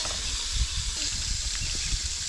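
Thin-cut steak sizzles on a grill at a lakeside campsite in Minnesota's Boundary Waters, a steady, close hiss and crackle that holds at an even level throughout with no talking.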